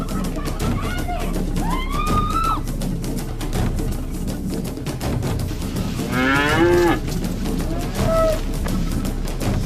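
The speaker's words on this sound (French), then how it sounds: "Prends cette vache." Cattle mooing several times, drawn-out calls rising and falling over a busy background of clatter and voices.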